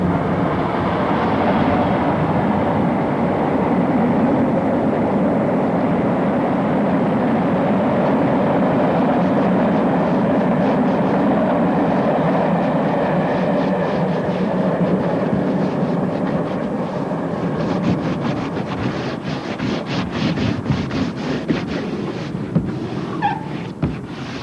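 A train rumbles past with a steady low roar, building to rhythmic clattering of wheels over rail joints toward the end.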